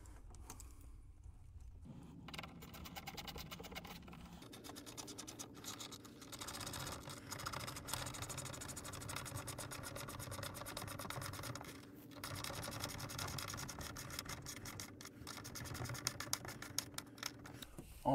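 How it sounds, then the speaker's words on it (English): A screw is driven into a 23 to 55 inch TV wall mount with an 8 inch arm, making a steady, close rasping and scraping grind that runs almost unbroken for about eighteen seconds, with a few sharper clicks near the end. "And now we're going to put in our 3rd screw."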